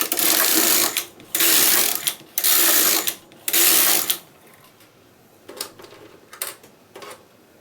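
Carriage of a knitting machine swept back and forth across the needle bed, four loud whirring passes of about a second each, followed by quieter clicks and handling noises.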